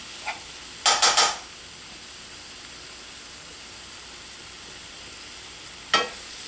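Flour and vegetables browning in a pan, heard as a faint steady sizzle with a quick cluster of scraping stirs near the start and one more scrape later, close and quiet, no speech.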